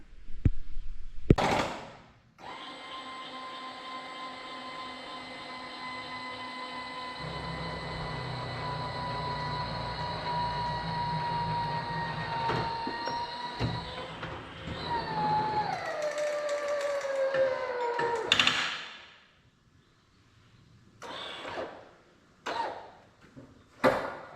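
A mower deck engine cranks and catches, then runs at a steady droning hum for over ten seconds before winding down and cutting out, followed by a few knocks.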